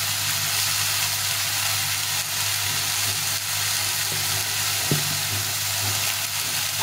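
Okra fries in a pan with salt and turmeric, a steady close sizzle with a low kitchen hum underneath and one brief clink of a utensil near the end.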